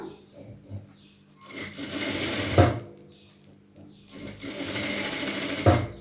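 A sewing machine stitches blouse fabric in two loud whirring bursts, each ending with a sharp clack, with quieter pauses between them.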